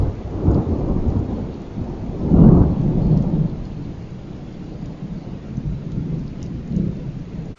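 Pouring rain on a farm makes a steady hiss, with deep rolls of thunder rumbling loudly at the start and again midway before fading to lighter rumbles.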